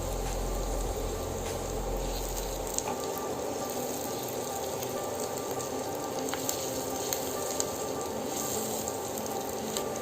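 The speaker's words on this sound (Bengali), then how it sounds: "আমাদের পেঁয়াজ কাঁচামরিচ সব কিছুই ভাজা ভাজা হয়ে গেছে।" Onions and green chillies frying in oil in a pan, a steady close sizzle that holds evenly throughout with occasional small crackles.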